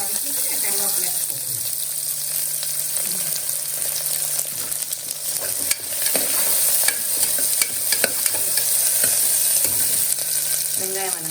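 Onions and curry leaves frying in a pan as a spoon stirs them, a steady close sizzle running throughout with scraping strokes and clinks scattered through it, no voices.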